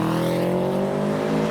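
A Subaru Forester drives past at a car show, a loud close engine drone holding steady through the short moment.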